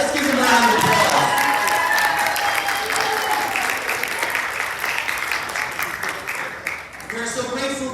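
A school awards ceremony audience applauds its teachers with sustained, dense clapping that fades slightly toward the end, while a voice talks over the start and end.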